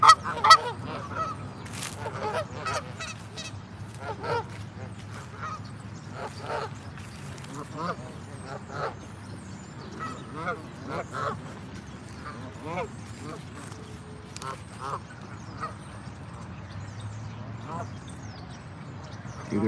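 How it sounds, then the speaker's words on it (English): A flock of geese honks repeatedly outdoors, with overlapping calls near and farther off throughout, while a person walking talks over them. "Check out all these geese."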